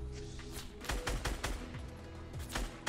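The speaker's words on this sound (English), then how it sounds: "Alright, we're getting shot at." Rapid bursts of gunfire in the video game Fortnite, with several sharp, loud volleys cracking in quick succession over a steady game soundscape.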